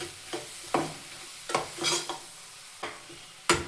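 Vegetables being stir-fried in a pan for a vegetable avalakki dish, with repeated scraping stirs over a low continuous sizzle, several sharp spatula strokes at irregular intervals, close and fairly loud.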